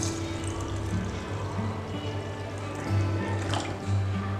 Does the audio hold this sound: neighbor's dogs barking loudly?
no